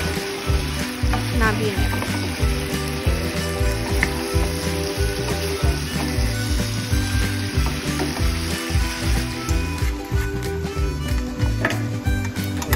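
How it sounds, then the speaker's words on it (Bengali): Chicken frying in a frying pan for restaurant-style chilli chicken, a loud steady sizzle broken by regular rhythmic scrapes of stirring, with a brief voice speaking near the end. "চিকেনগুলো ফ্রাই হয়ে এসছে, এবার আর একটু নেড়ে চেড়ে নিয়ে"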